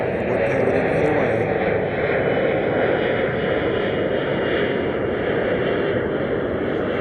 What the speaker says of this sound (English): We have another Dreamliner coming around.